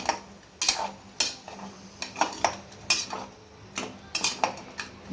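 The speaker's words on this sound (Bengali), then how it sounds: "একটু নাড়ি চাড়িয়ে নিলাম" A utensil scrapes and clinks against a pan while chickpeas for chole, seasoned with turmeric, are stirred; a quick series of short metallic knocks and scrapes, close and fairly loud, with no speech.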